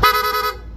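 Rapid-fire PIA horn fitted to a Yamaha Aerox V2 scooter, sounding a loud, bright stutter of quick repeated toots for about half a second before cutting off abruptly.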